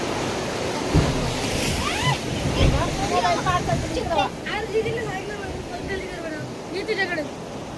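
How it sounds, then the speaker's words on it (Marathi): Sea waves surge and wash around people standing in the ocean, a steady rolling churn with broadband wash, whistles and voices mixed in throughout. "आम्ही आता समुद्रामध्ये आलेलो आहोत आणि समुद्राच्या या सगळ्या लाटेंमध्ये"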